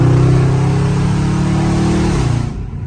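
BMW 430i engine pulling hard under acceleration, a loud steady mid-pitched drone that rises, then drops as an early upshift cuts it off near the end, close and alone with no talk.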